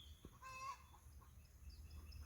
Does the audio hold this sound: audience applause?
no